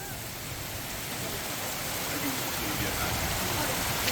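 Rain falls steadily during a Scottish country dance camp, a dense, even hiss of drops on surfaces that holds at a constant loud level throughout.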